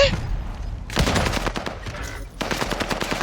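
Rapid automatic gunfire in Call of Duty: Warzone Pacific on the Caldera map, with STG44 and MP40 weapons, coming in two loud sustained bursts separated by a brief lull, dense and close.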